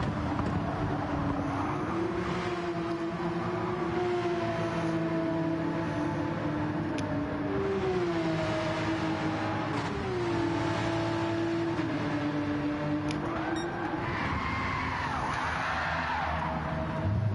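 Sim racing cars lapping Monza in a video game, their engines droning continuously with rising and falling pitch through gear changes and braking, one car howling louder near the end.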